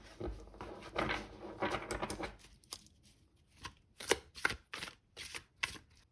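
Tarot cards riffle and slide in quick bursts, first a longer shuffling stretch, then several short separate snaps and taps close by.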